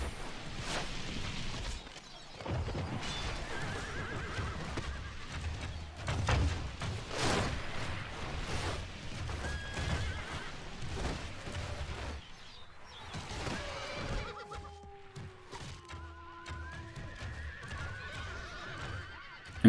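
Horses of mounted horse archers whinny and neigh in the Medieval II Total War game (Broken Crescent mod), with repeated loud calls over a busy battle din of thuds and hoof clatter.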